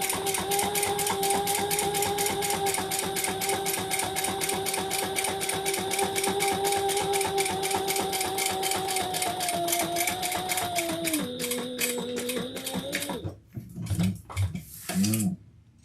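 A sewing machine back stitching leather for a messenger bag runs in a fast, even run of needle strokes, slowing near the end before stopping, with a few short bursts after.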